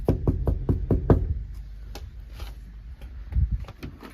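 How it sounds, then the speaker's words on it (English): Knocking on a house door: a quick run of about five firm knocks, near and clear, followed by a few softer scattered taps and thumps. "I'm gonna go knock on her door and see what she says"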